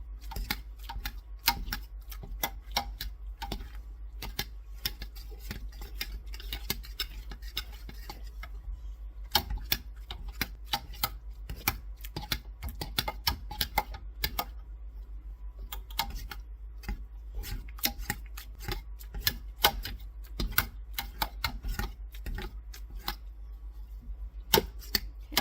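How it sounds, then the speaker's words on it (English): Cooked pinto beans are stirred and mashed in a pot for refried beans, with a steady run of quick, sharp tapping and knocking from the utensil, close and fairly even over a low hum. "I'm stirring and mashing and stirring and mashing."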